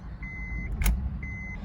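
A 2007 Honda Pilot with a catalyst warning starts warm: a brief cranking burst settles into a steady low engine hum, between two thin electronic chimes from the dash, with no talking.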